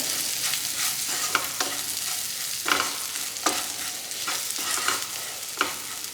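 Cluster beans with a sesame spice mix fry in a pan with mutton, a steady broadband sizzle broken every second or so by sharp scraping stir strokes, close and fairly loud, with no voices.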